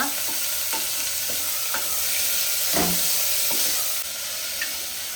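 Onions frying in a pan in a home kitchen give off a steady, close sizzle, with a few light stirring clicks and scrapes over the hiss.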